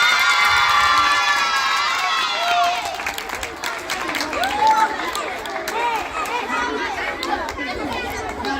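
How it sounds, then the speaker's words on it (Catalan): A lively crowd with children cheers, shouts and claps for a young champion at a trophy presentation, with excited chatter and voices over scattered applause. "Un fort aplaudiment per aquest campió."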